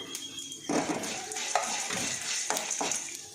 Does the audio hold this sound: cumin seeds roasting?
yes